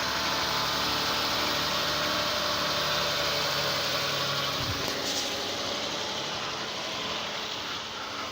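A Kia Sorento 3.3-liter V6 idles steadily just after an oil change, a close, even engine hum with a constant mechanical drone throughout and no talking.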